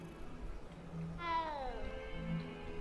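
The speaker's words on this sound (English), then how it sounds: "I don't like their meows. They're pretty low tone, which is weird." Cat meowing in the video game Hogwarts Legacy, a single low-toned, drawn-out meow over a quiet background hum.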